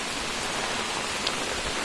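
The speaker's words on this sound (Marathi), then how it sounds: "सकाळपासून पाऊस नव्हता, तर आता सुरुवात झाली त्याची." Steady, fairly loud rain begins falling outdoors in a Konkan village, a dense even patter with no voices over it.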